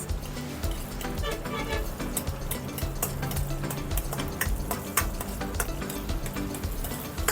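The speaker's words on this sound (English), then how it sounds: "Then we put the onions, saute the onions." Onions sauté with ground beef in a pan, a steady close sizzle with crackling pops and occasional stirring scrapes throughout, no voices over it.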